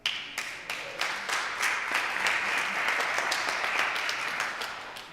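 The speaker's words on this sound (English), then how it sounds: "The claps are for all of you." Congregation applause during a church service fundraising update, sustained clapping from many hands that starts with a few sharp claps and swells into a dense, even round lasting several seconds.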